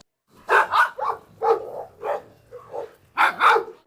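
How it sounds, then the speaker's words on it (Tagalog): A dog barks in a quick series of sharp, close barks, about seven in four seconds, with brief pauses between them. "may tumatahol na aso mula sa lahat ng direksyon"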